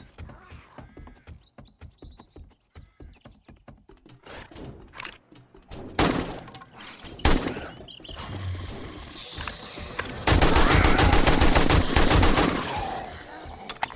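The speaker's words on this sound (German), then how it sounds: "Und dann muss ich ja einfach bloß nach unten schießen" Gunfire aimed downward in 7 Days To Die Alpha 21 at a zombie nest, starting as rapid clicking shots, then growing into loud bursts mixed with growls and roars, ending in a dense sustained volley.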